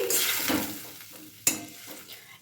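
A spoon stirs a curry of dried green bananas just after water goes into the pan, soft scraping and sizzling with one sharp knock of utensil against the pot midway.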